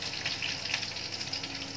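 Cumin, curry leaves and green chillies sizzling in hot oil for a falahari dosa filling, a steady, close frying hiss with no talking.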